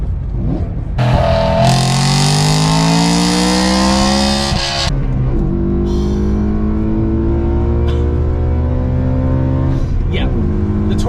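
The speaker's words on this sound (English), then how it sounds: "the moment that you really start to rev this car up" A BMW E92 M3 V8 engine revs hard, its pitch climbing and then falling away, before dropping back to a lower, steadier drone.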